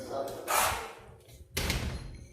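A door is pushed shut with a couple of dull thuds and a sliding scrape, fairly close, while people speak in the room.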